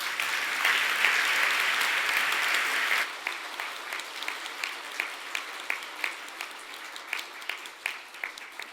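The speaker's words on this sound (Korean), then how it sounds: "다시 한번 김동혜 이사장님께 뜨거운 박수 부탁드리겠습니다" An audience applauds at the 2025 Samsung Ho-Am Prize award ceremony, a full warm burst of clapping that thins after a few seconds into scattered, rhythmic individual claps fading out.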